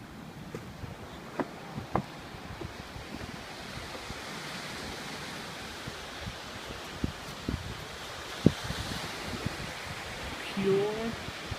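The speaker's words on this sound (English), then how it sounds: "pure ocean." Ocean surf at Myrtle Beach washes in as a steady broadband roar with wind buffeting the microphone, a few brief knocks and faint voices scattered through the background.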